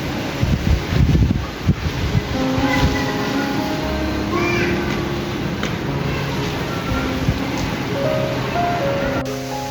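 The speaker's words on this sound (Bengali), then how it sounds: "ওই যে দেখুন কী পরিমাণে বাতাস বইছে।" Strong wind blowing outdoors on a hot day, a steady rushing roar with gusty buffeting on the microphone, loudest in the first couple of seconds, with faint tonal sounds in the background.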